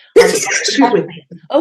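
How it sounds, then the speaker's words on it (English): A single sharp sneeze set off by burning sage smoke indoors, quickly followed by close, clear speech from the same woman. "Sages making me sneeze."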